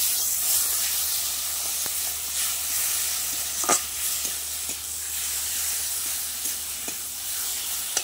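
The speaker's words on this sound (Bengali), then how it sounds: "আমি ভালো করে কষিয়ে নিয়েছি মশলাটা দিয়ে।" Masala spices sizzle in a pan as they are stirred, a continuous bright hiss of frying with occasional scraping clicks from the spoon, close and moderately loud, with no talking.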